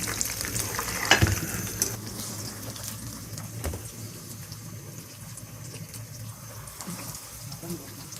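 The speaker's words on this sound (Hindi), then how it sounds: "इसी तरह हम और फ्राई कर लेंगे।" Chicken pieces frying in hot oil in a home kitchen, giving a steady, close sizzle and crackle throughout, with a brief clatter near the start.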